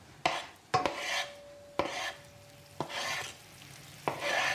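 Anchovies fry in a pan under a steady sizzle, broken by five sharp stirring scrapes spaced about a second apart, each followed by a swell of hissing oil; close and fairly loud, with no talking.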